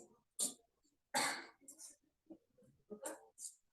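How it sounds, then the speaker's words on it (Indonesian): Several short, harsh coughs and throat clears come in separate bursts with brief pauses between them, fairly close and moderately loud. "Semua pada batuk."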